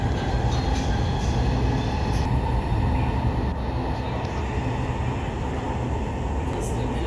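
A Riyadh Metro train runs along the line, its steady rumbling roar and rolling wheel noise filling the car continuously at close range, with faint voices inside.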